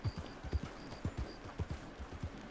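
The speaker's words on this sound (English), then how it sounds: "I don't know how to stop this horse." Rhythmic clip-clop of horse hooves in a video game, a steady trotting beat of soft thuds repeating close and alone.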